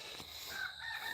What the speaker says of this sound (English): there's the other rooster starting to crow again now